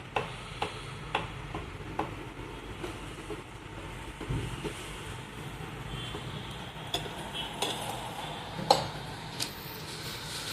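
Appalam (papad) roasting dry without any oil, crackling with scattered faint ticks and small pops in an irregular rhythm against quiet kitchen background.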